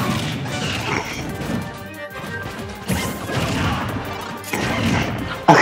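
Up smash attacks by Falco connecting in a Super Smash Bros. Melee amiibo match, heavy smacking crash hits over busy game effects and music, fairly loud and continuous.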